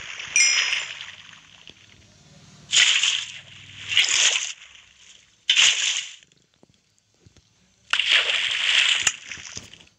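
Splashing sounds from a Minecraft character moving through water, a series of bright sloshing bursts in separate clumps with quiet gaps between them.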